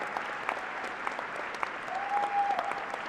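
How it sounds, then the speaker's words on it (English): Audience applause at a university fall commencement ceremony, dense steady clapping from a large crowd filling the hall for several seconds, fairly loud with a faint whistle-like tone near the end. "Let's give them a round of applause."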